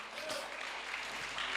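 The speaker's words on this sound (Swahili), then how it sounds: "Piga tena makofi kwa Bwana Yesu." A church congregation in Nairobi, Kenya claps for Jesus, a dense burst of many hands applauding steadily for about a second and a half, moderately distant and unaccompanied by speech.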